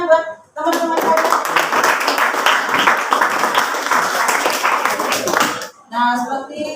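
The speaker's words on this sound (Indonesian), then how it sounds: "Berikan tepuk tangan buat teman-teman saya." Students in a classroom clap together for their classmates, a loud dense burst of hands lasting several seconds that breaks off abruptly, with a brief voice before and after the clapping.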